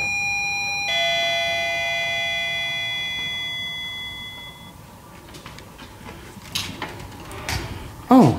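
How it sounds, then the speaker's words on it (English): A chime in an elevator sounds with a clear, sustained two-tone ring of several harmonic tones that slowly fade over a few seconds, followed by clunks and mechanical rattles from the car and a brief sweeping tone at the end. "Let's see if this chime works."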